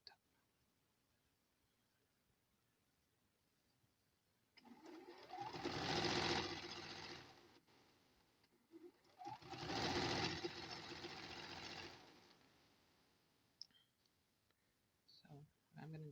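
A sewing machine stitching pieced fabric squares for an Amish Squares quilt block, running in two bursts of roughly three seconds each with a pause between, then quiet handling clicks.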